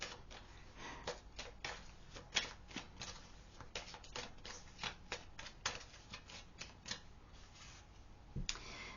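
Tarot cards are shuffled and handled in quiet crisp flicks and riffles, irregular and close, with no voice over them.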